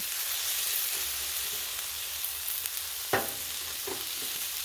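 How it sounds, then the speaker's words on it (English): Pork fried rice sizzles steadily on a Blackstone griddle, a close, continuous frying hiss with a few soft scraping stirs and clinks mixed in. "Make sure some of this meat cooked all the way through."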